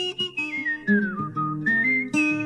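Melodic human whistling in a 1970 blues-rock song, a bright sliding tune that rises and falls over guitar and bass accompaniment, close and prominent.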